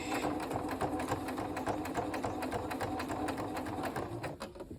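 A domestic sewing machine stitches a quarter-inch seam across the top edge of a quilt top, running steadily at close range with a fast, even mechanical patter that slows and stops near the end.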